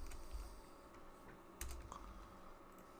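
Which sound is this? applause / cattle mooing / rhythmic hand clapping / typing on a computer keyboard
typing on a computer keyboard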